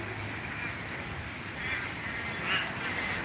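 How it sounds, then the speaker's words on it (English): Crows calling outdoors on a city walk around a fountain in Melbourne, harsh caws scattered over steady broadband street and wind noise, one louder call near the end. "There's the crows."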